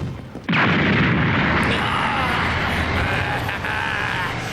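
Loud, sustained burst of anime battle gunfire and blasts that erupts suddenly after a brief quieter moment and holds steady, dense and close, for several seconds, with voices faintly beneath.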